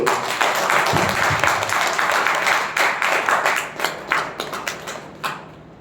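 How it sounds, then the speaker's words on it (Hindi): Audience applause at a Hindi-language seminar on a diet system, a dense burst of clapping that thins into scattered individual claps and fades out over several seconds. "जोर से तालियां बजाओ"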